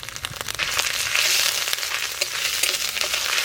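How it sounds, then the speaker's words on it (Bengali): Turmeric and ginger paste frying in hot oil, with a loud, dense crackling sizzle that rises after a moment and keeps spitting and popping close by, without any talk. "গরম তেলে হলুদ দিলাম, তো আদাটা দিলে আর তেল ছিটকাবে না"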